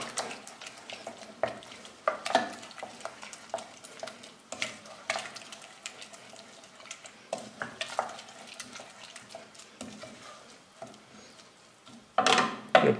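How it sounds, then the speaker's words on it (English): Vegetables for a vegan carrot cake softening in a pan, with a soft steady sizzle broken by repeated stirring and scraping of a utensil against the pan, close and fairly quiet, with a louder clatter near the end. "I'm just going to cook it down just to break the cells up a little bit."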